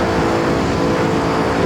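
Bugatti Chiron engine in the racing game Assetto Corsa, a loud sustained engine roar at high revs, droning continuously through a short burst with no pauses or voices.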